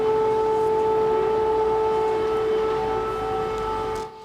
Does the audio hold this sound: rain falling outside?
no